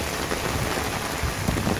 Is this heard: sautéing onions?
no